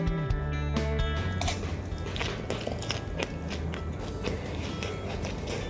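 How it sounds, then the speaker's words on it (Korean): Crispy rice paper roll filled with leftover japchae being bitten and chewed up close, crunchy crackles and soft munching in an irregular rhythm, with a steady background hum throughout. "우선 라이스페이퍼 마리부터 먹어볼게요"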